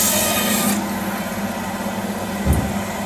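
A butcher saws through the middle of a beef shank marrow bone for kavurma, making a steady rasping scrape with a low thud near the end, close and unbroken.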